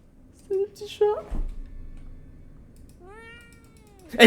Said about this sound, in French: C'est le petit chat.